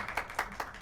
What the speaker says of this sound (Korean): 한 번 더 박수로서 감사드리겠습니다.